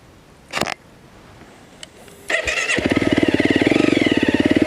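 A trail motorcycle on an extreme hill climb starts up and settles into a loud, close, rapidly pulsing engine note after a few brief knocks and clatters.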